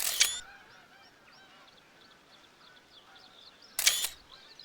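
Two sharp camera shutter clicks sound in a hunting video game, one at the start and one near the end, with faint ambient bird calls and quiet background between them.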